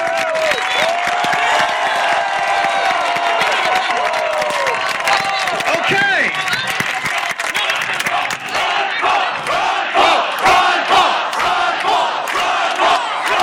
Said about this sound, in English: You're not going to let him go in without this crowd roaring.